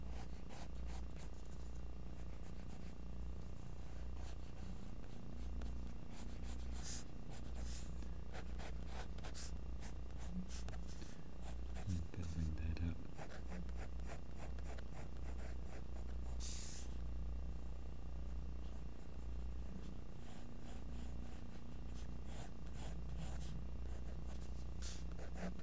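A graphite pencil sketches fine detail on paper for a squirrel drawing, giving a faint, continuous scratching and rasping over steady low background hum for about 26 seconds.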